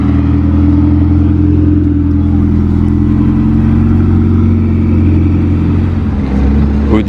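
A car engine in Monaco runs loud and close, a steady low revving drone that shifts pitch near the end as the car pulls away.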